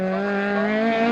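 A rally car at Cadwell Park runs a circuit rally stage, its engine holding a steady, loud, harmonic drone that rises slightly through the moment, with no distinct gear change standing out.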